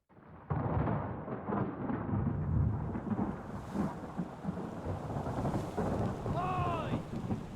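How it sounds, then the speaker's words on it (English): A thunderstorm with rain in the Return of the Obra Dinn video game, with a steady, loud rain hiss, rolling thunder rumbling throughout and a muffled voice calling briefly near the end. "Storm's coming!"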